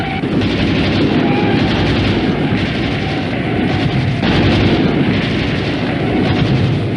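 Dense battle-scene gunfire and explosions from a Doordarshan war drama about a frontline defence: a continuous loud rumbling roar of artillery-like blasts and firing for seven seconds, with a heavier burst near the middle and no speech.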